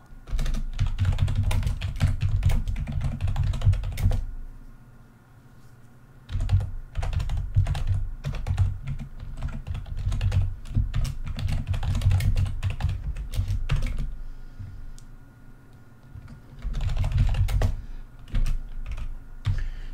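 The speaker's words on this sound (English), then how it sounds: "typing noises begin now" Computer keyboard typing during a coding session, with close, dense bursts of rapid key clicks separated by short quiet pauses and a few isolated taps.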